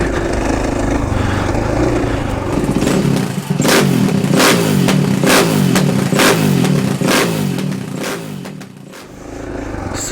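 A 2018 KTM 500 EXC-F dirt bike engine roars continuously while being ridden, loud and close, with a series of sharp rhythmic revving bursts in the middle stretch before settling back to a steady drone.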